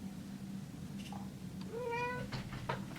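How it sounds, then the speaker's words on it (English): House cats meow indoors, with a short rising cry and then a clearer drawn-out meow, both faint over a low background hum. "The cats are driving me nuts."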